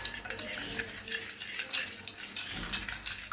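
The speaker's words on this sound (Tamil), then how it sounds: "இதை நல்லா மிக்ஸ் பண்ணி விட்டுருங்க." A spoon stirs a warm water and yeast mixture for jalebi batter, making quiet, rapid clinks and scrapes against the bowl in a continuous patter.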